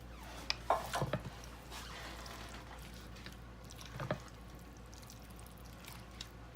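Drained beans tipped into a crockpot of chili: a few soft, close plops and scrapes early on, another brief splash later, then near quiet.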